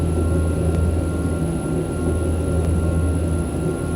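Saab 340A turboprop climbing out after takeoff in the X-Plane 11 simulator, a steady, loud, unbroken engine drone with a low hum that holds level throughout.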